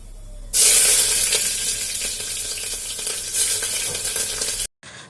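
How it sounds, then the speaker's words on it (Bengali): Cabbage ghonto sizzles loudly in a pan, a bright, steady frying hiss that starts abruptly after a brief quiet moment, runs continuously up close and cuts off near the end. "এখন বসিয়ে দিয়েছি হচ্ছে বাঁধাকপির ঘন্ট"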